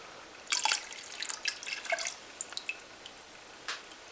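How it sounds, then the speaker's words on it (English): Yeast being poured into a batch of homemade elderberry wine, a light trickle of splashing drips and patters that comes in short bursts and then tapers off, close and without talk. "we're going to take this new yeast right here, and we're going to pour this shit in"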